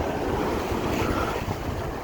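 Strong wind buffeting the microphone at Blackpool Central Beach by the sea, a loud continuous rumbling roar with surf noise underneath.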